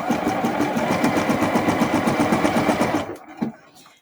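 A sewing machine runs steadily for about three seconds, understitching the facing of a garment hood, its needle clattering in a fast even rhythm up close before stopping, followed by a few soft handling clicks.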